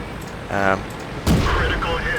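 T1E6 tank cannon shots in World of Tanks, two separate booming reports about a second apart, the second sharper and louder, followed by ringing game sounds.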